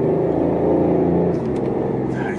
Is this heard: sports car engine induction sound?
yes